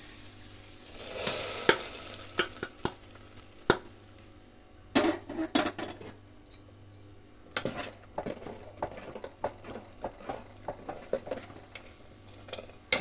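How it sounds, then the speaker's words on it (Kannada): An onion tempering is poured into a pot of chickpea and tamarind sambar. It sizzles and crackles in bursts, with stirring and clinks of a metal pan and spoon, and no talking. "ಈಗ ಒಗ್ಗರಣೆ ನಾವು ಸೇರಿಸೋಣ ಪಾತ್ರೆಗೆ"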